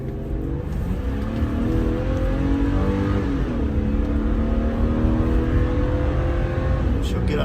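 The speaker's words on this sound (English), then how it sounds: "It's a good sounding car. I like it. It's got dual exhaust." A small car with dual exhaust pulls away and accelerates, its engine rising in pitch through gears with a steady, throaty roar, heard from inside while someone talks.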